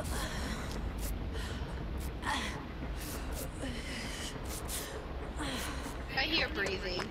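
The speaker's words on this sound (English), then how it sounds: "I hear breathing." Gasping breaths in a Dead by Daylight match with Michael Myers, heavy and repeated under continuous game noise and people talking over voice chat.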